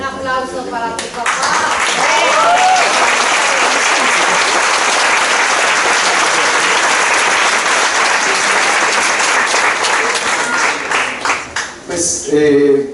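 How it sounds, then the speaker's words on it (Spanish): Audience applause fills a discussion event marking the fiftieth anniversary of Los caifanes: dense, sustained clapping for about ten seconds, with a voice speaking briefly before it starts and again as it ends. "Un aplauso para tu papá."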